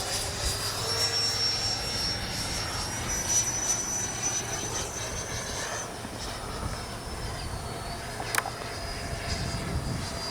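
A Freewing 90mm F-15 RC jet coming in to land, its electric ducted-fan whine holding steady and fairly loud, the pitch easing lower partway through, with a brief sharp click near the end.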